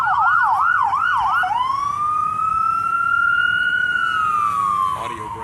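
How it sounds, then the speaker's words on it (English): Outside a hospital, an ambulance siren wails loud and close in a rapid rising-and-falling yelp, then shifts into a long drawn-out tone that fades near the end. "hence the ambulance."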